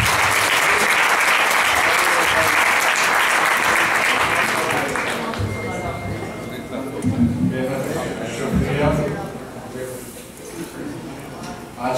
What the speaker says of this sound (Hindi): तो आपकी पुरजोश तालियों में मैं बुलाना चाहूँगा मोहतरम मकाम